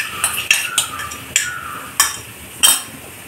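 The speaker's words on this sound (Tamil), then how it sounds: "ஆட் பண்ணி நல்லா மிக்ஸ் பண்ணிக்கலாம்." Spices being stirred into lamb chest curry in a pot, a metal spoon clinking and scraping against the pot in a handful of sharp, close knocks with soft sizzling between.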